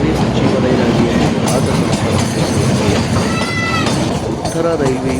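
Kalka–Shimla toy train running along its narrow mountain rails, a loud continuous rumble and clatter of wheels with brief high metallic squeals, close and steady throughout, with no talk over it.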